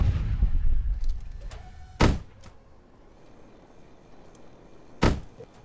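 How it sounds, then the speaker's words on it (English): Broadside cannons firing in the video game Space Engineers: two sharp, dull thuds about three seconds apart, with a low rumbling murmur at the start and faint clicking between shots. "Oh, shit! The broadside cannons are firing."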